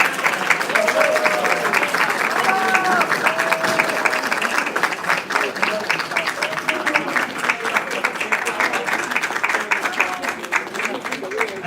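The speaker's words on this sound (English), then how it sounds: "Everyone, please give them another round of applause." A festival crowd applauds after a live cultural performance, loud continuous clapping with scattered cheers and whoops riding on top, lasting the whole stretch.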